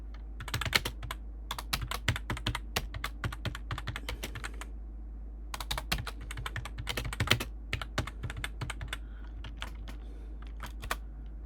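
Close, crisp keystrokes on a computer keyboard come in quick irregular bursts with short pauses between them as text is typed, quiet and alone with no talking.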